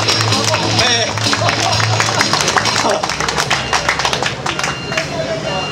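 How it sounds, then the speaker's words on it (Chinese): A rally crowd claps, a scattered patter of hands building in the second half beneath a talking voice. "掌声鼓励哦"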